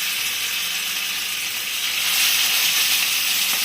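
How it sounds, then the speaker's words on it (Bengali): Hilsa fish frying lightly in oil, a steady, fairly loud hiss and sizzle that runs unbroken for a few seconds with no talk. "এখন মাছগুলোকে একটু ভেজে নিব হালকা করে।"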